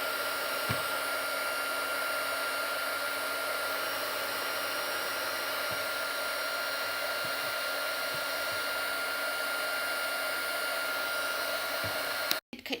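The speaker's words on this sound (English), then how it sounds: "And then dry it very quickly. Heat gun it." A heat gun blows a loud, steady whooshing roar while drying painted popsicle sticks, running continuously at close range before cutting off abruptly near the end.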